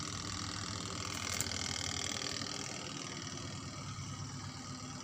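Washing machine drum spinning smoothly at steady speed, a continuous even motor hum with no knocking or wobble, fairly quiet and close, without talk.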